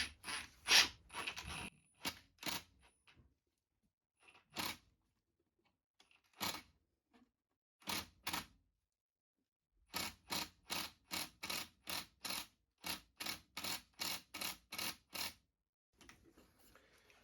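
A flat-head screwdriver bit in a Yankee-style ratcheting driver turns a screw into oak: close, crisp bursts of ratchet clicking in a steady rhythm, separated by short silent pauses.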